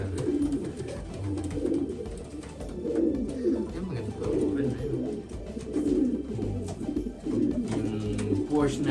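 Pigeons in breeding boxes cooing in soft, repeated low throaty rolls, close and continuous, with someone talking over them.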